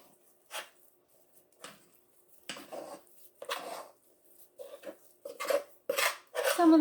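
A spoon scrapes and knocks as a peanut butter and marshmallow mixture is pushed into a pan. There are about a dozen separate scraping bursts that grow louder and closer together toward the end.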